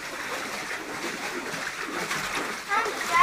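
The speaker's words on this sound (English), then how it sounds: "Look at that water going zooming by you." Water rushes and splashes past legs wading through a current, a continuous soft sloshing hiss with a brief louder splash near the end, while people talk over it.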